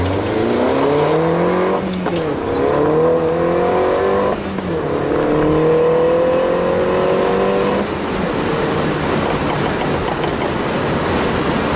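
A Mini Roadster fitted with coilovers laps a motor racing circuit, its engine climbing in pitch through the gears with audible shift drops, then easing into a broad roar of wind and road noise, loud and close throughout.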